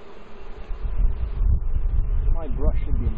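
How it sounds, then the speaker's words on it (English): Bees buzzing around a top bar hive being moved, a low humming drone close to the microphone amid wind rumble, with a person's voice briefly audible over it. "I want to get rid of these bees first if I can"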